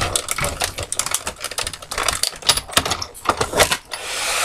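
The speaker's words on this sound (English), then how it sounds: "let me go ahead and run this through the machine" CottageCutz die cutting machine running a picket fence die through: a dense, busy clatter of rapid mechanical clicks and rattles with irregular bursts, close and fairly loud throughout.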